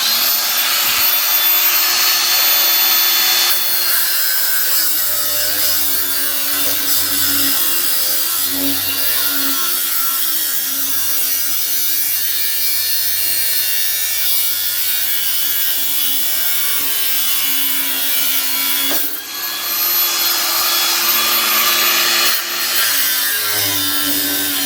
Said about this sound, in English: next job is we can cut this front piece out